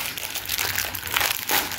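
A cake packet's plastic wrapper crinkles and crackles up close as it is torn open, a short, busy burst of rustling with no talk.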